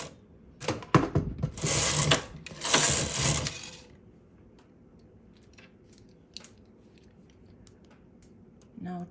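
A knitting machine carriage is pushed across the needle bed to knit two rows of a lace pattern, giving two loud rattling, whirring sweeps, each lasting one to two seconds, followed by quiet small clicks.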